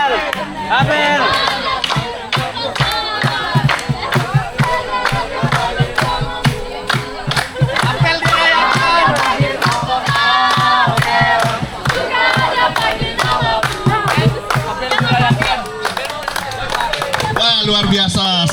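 Lively crowd at a high school outdoor worship service, loud cheering, shouting and clapping over chatter and music, dense and continuous throughout with voices mixed in.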